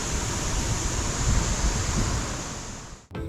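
Steady, dense rushing of water at Sajjikot Waterfalls, a broad continuous roar close to the microphone with no talk, cut by a brief dip near the end.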